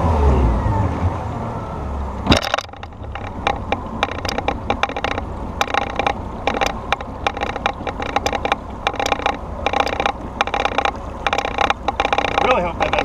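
A 2019 Tracker Targa V18 Combo boat moves across the water, its outboard motor droning steadily beneath broadband wind and water noise, with repeated sharp bumps and slaps throughout as the hull rides along.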